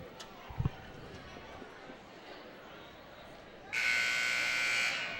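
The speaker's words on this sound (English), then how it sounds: "There's the starting buzzer." A basketball game's starting buzzer at a 2005 girls' high school game against Williamston blares for over a second, loud and steady, over faint gym crowd murmur and an earlier thump.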